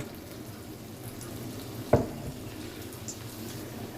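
A second batch of lachha pakora fries in hot oil, giving a steady, close sizzle throughout, broken by one sharp clack from a utensil midway.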